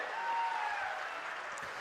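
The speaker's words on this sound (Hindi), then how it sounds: "एक बार जोरदार तालियों से हम उनका स्वागत करते हैं।" Crowd applause welcoming speakers at a Congress political rally, a steady wash of clapping that holds level for a couple of seconds.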